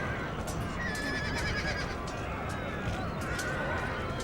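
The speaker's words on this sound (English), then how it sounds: "That was the horses I could hear moving." Horses in the game Empire: Total War neighing and clip-clopping, a few whinnies over a dense, noisy battlefield ambience, moderately faint and continuous.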